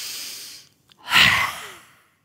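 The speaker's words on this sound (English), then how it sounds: "So let's take a deep breath in together." A single deep breath in taken slowly through the mouth during a chanting voice warm-up, close and breathy, rising then fading, with a brief softer breath before it.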